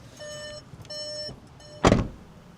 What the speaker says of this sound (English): Ignore the van beeping at me.